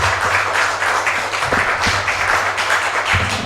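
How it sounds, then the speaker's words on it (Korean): A church audience claps to welcome a pastor to the stage, producing steady, dense applause of many hands at a moderate distance, with no speech over it. "이 시간 우리 강사 목사님 나오실 때 우리 할렐루야 하고 박수 치고 환영하겠습니다."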